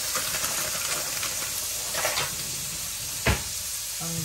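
Onions sizzle in a hot pan for shepherd's pie, a broad steady frying hiss with a brief clatter partway through, no talking.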